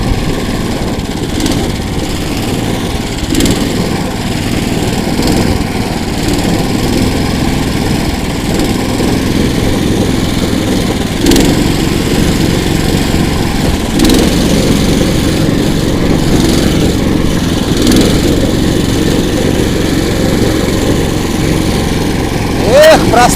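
A KOIRA all-season motorized towing sled drives along forest roads and lakes, its small engine droning steadily and loudly without pause, accompanied by faint background rumble.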